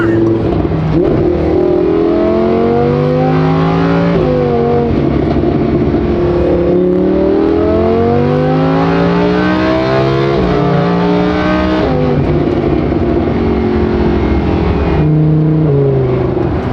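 Straight-piped, tuned Lamborghini Huracan driving with its engine loud and close throughout, revving repeatedly through rising and falling pitch sweeps as it accelerates and shifts, with no talking.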